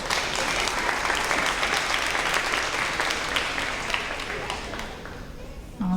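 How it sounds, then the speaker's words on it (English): Sustained applause from an audience at a third-grade promotion ceremony, many hands clapping steadily before gradually fading out near the end. "give these kiddos one last round of applause for this social studies award"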